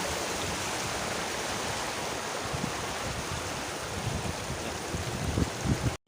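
Steady broadband rush of a waterfall stream at Kasabangan Waterfalls on Biliran island, continuous and fairly close, with low rumbling water churn, stopping abruptly at the end.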